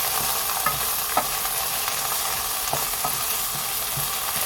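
Spoon scraping and stirring a kale quiche mixture in a bowl, steady soft swishes with light taps repeating throughout, close and alone without voices.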